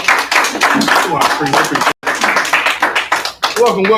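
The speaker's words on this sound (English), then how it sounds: "clap it up, everybody" An audience claps at a Thursday night class, the dense clapping running steadily under overlapping voices and cheering for about four seconds, with a brief gap midway.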